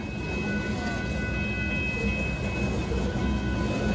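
A train, Amtrak or Union Pacific freight, rumbles past at close range with a steady, loud roar of rail noise and faint wheel clatter throughout, with no voices over it.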